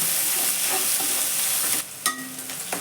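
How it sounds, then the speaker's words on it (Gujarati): Loud, close sizzling of green onions hitting ghee in a hot pan for about two seconds, then it quiets and a few light clinks and stirring scrapes follow. "આ લીલી ડુંગળી પણ સતળાઈ ગઈ છે"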